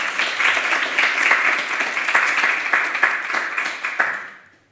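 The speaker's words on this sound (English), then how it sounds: "Can I have a round of applause for my excellent panellists," Audience applause for panellists at a workplace conference panel debate on psychological safety: dense, steady clapping from a full room that holds for about four seconds, then tapers off and dies away.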